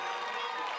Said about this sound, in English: Brighton will win a throw-in, which is greeted by a ripple of applause.